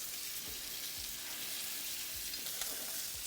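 Onions dropped into a super hot pan beside a searing steak sizzle and crackle steadily, a bright hiss with a few soft thumps as they are stirred, no voices over it.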